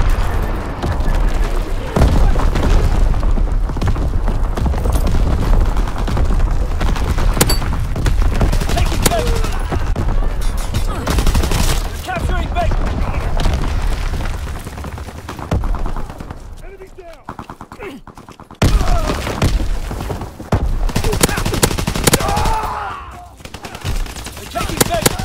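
Heavy gunfire and booming artillery fill a Call of Duty WW2 battle, with dense overlapping shots and blasts running loud and almost continuous, dropping out briefly near the middle and late on, while game voice callouts sit underneath.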